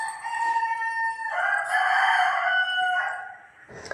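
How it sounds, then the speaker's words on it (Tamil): A rooster crows loudly and close by, one long drawn-out cock-a-doodle-doo rising and holding before trailing off, with no talking. "அந்த சேவல் கத்திகிட்டே இருக்கிற சவுண்டு தான் கேட்குது."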